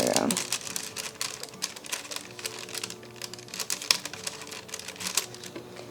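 Tape being pulled and pressed onto a 12-inch glass charcuterie board beside a heat press, a close run of quick crackling taps and crinkles with brief sharp peaks.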